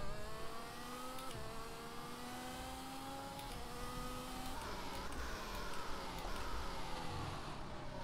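Hamilton's race car engine in a racing game, a steady high whine that shifts pitch through gear changes as it accelerates, with other cars droning nearby and no talking.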